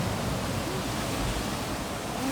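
Big ocean waves breaking at a church beach on Bermuda, a steady broadband roar of surf filling the whole stretch with no pauses, close and loud.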